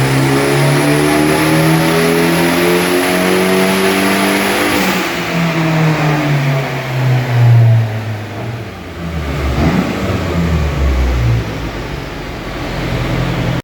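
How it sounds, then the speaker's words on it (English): A Mitsubishi Galant VR4 engine revs hard on a dyno during a power run, its loud rising then falling engine note sweeping up through the gears, close and alone with no talk. "it was just a matter of tickling up the tune and giving it a power run"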